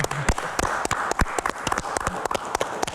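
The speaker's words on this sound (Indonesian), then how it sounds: "Oke, baik, tepuk tangan dulu." An audience claps for a few seconds, a dense patter of many hands at moderate level with sharp individual claps standing out, in a talk-show setting about diabetes and healthy living.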